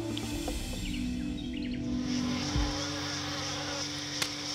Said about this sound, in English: Oh my God, the mosquitoes.